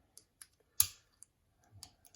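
Small metallic clicks and taps come from wire picking tools working inside a lever padlock, sparse and close, with one sharper snap partway through and quiet gaps between.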